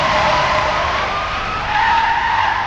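A car's tyres screech in one loud, sustained skid as it is brought to a stop on a highway, a steady, close squeal with no voices.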